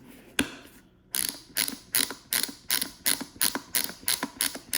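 A BOA lace dial on a snowboard boot being turned, giving a close, loud series of sharp ratcheting clicks in a steady rhythm, one brief click first, then about a dozen evenly spaced clicks, with no talking.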